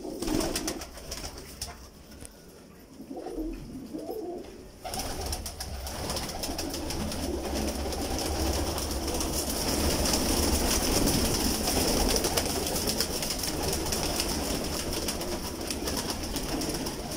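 Pigeons coo softly and repeatedly at close range, with a steady wash of background noise that grows louder midway through.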